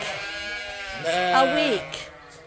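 Sheep on a farm let out a loud, close, wavering bleat in the middle after quieter background noise, with a fainter bleat trailing near the end.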